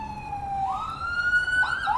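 An ambulance siren sounds outside, its wailing tone rising and sliding at moderate volume and holding steady through the whole stretch, with a faint rumble of road traffic beneath and no voices.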